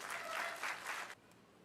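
Applause from the audience at a Sir Syed Day 2014 ceremony of AMU alumni in Jeddah, a faint, steady wash of clapping that cuts off abruptly after about a second, leaving near silence.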